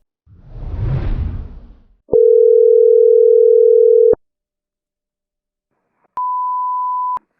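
A telephone call to a coin shop: a soft whoosh, then a loud steady dial tone for about two seconds, silence, and a single clear electronic ringback beep, with no voices.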